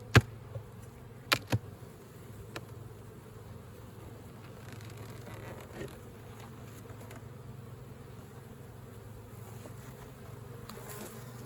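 A honeybee colony buzzes steadily and densely during a hive inspection, with a few sharp knocks of frames near the start, the hum continuing throughout.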